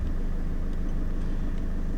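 Mercedes C220 CDI W203 with the OM646 diesel engine idling steadily on a concrete slab after a hesitant start, a constant low rumble with no break or change.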